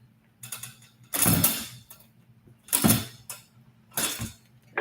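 Wire cutters are handled up close, making three bursts of metallic clicking and ratcheting with quieter gaps between them and no talking.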